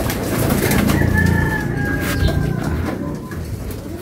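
Outdoors, a pigeon coos at close range amid other bird calls, with a thin whistle and a steady background hum, no talk.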